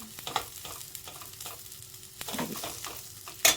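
Masala and green chillies fry in a pan for a bitter gourd gojju, a low crackling sizzle broken by repeated light spoon scrapes and a sharper clink near the end, with no one speaking.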